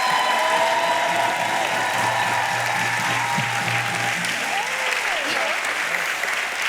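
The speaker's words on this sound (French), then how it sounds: "je vous demande d'applaudir bien fort Aurore, Marwan et tous les lycéens de Paul-Éluard" A crowd at a municipal election campaign meeting in Saint-Denis–Pierrefitte applauds loudly and steadily, a dense, sustained wash of clapping from many hands filling the room for several seconds.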